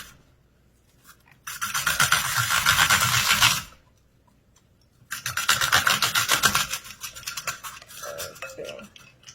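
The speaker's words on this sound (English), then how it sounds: "I'm just going to cut our onion." Onion being cut with a knife in a home kitchen while making vegan tomato soup: two bursts of rapid, close rasping knife strokes against a cutting board, separated by a short pause, with faint talk in the background.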